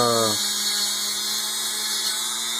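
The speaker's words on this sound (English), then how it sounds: "you want to blow out all the crap that you got in here, because you're inevitably going to get some shit in there with an air compressor" An air compressor blowing debris out of a Ford 351W upper intake: a steady, close hissing blast of air with a faint high whine, preceded by a brief buzzing motor tone at the very start.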